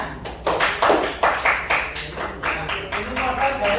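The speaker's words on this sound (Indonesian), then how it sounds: "Oke, beri tepuk tangan." Group of people clapping hands in unison at a school class presentation on environmental care, a steady rhythmic run of loud, sharp claps lasting several seconds.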